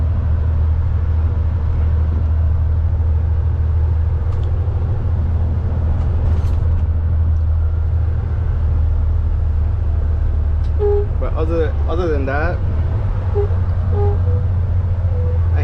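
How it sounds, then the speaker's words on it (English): Commercial truck rolling with a constant low road and engine rumble, then a brief high wavering brake squeal near the end; someone speaks a few words. "I hate these brakes. They make so much noise. And it's only this truck."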